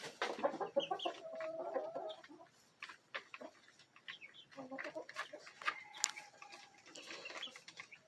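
Several chickens cluck and murmur inside a coop, a steady busy chorus of close, overlapping calls with scattered louder squawks and no talk.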